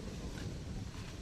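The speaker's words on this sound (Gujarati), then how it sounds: "મસ્તીનો પવન ઠંડો ઠંડો આવે છે," Cool night wind blowing steadily outdoors, a soft continuous rushing and buffeting against the microphone with low rumble, alone without voices.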